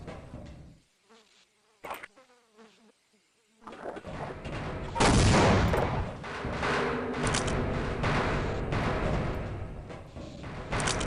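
Grenade explosions in Half-Life, a deep blast erupting after a few quieter thumps and buzzing, followed by a long rumbling roar of combat noise.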